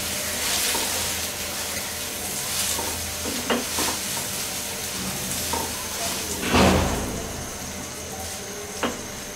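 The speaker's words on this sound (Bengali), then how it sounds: "দিয়ে এটাকে একটু ভুনবো" Spices and salt frying in oil in a pan for Bengali rui fish kalia, a steady close sizzle with intermittent scraping strokes of a stirring spoon.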